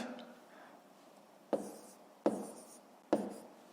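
A pen or chalk writes by hand on a surface while long division is worked out, making three sharp tapping strokes spaced under a second apart with faint scratching between them, close and alone.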